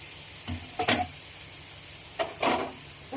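Chicken pieces sizzling quietly in a cooking pan, with two bursts of stirring where the spoon scrapes and clatters against the pan over a steady low fry.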